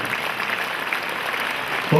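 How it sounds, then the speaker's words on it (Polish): Brief burst of steady crowd clapping at a martial arts gala in Ostrołęka after the first fight, continuous and fairly loud, with a hint of voice at the end. "Jeszcze raz gorące brawa."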